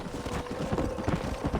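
A horse gallops in the Red Dead Redemption video game, its hooves pounding in a rapid, steady rhythm close by for a short stretch.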